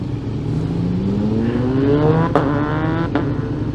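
A 200 whp Kawasaki sport motorcycle engine revs up with a rising whine as it accelerates, loud and close, with a couple of sharp pops or gear shifts near the end.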